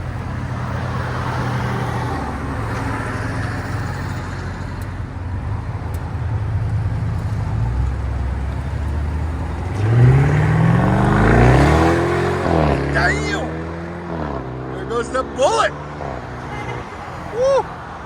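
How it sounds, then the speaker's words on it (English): A 2015 BMW 650i with a 4.4L V8 and a deleted muffler idles with a deep exhaust rumble, then revs up and rises in pitch before dropping back, loud and close. "BMW 650i. Muffler delete."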